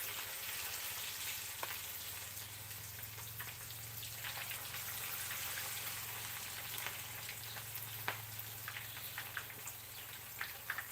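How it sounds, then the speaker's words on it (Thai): Small fish fry in hot oil, giving a continuous soft sizzle with scattered crackles and pops over a low background hum. "ทอดปลาซิวน้อย"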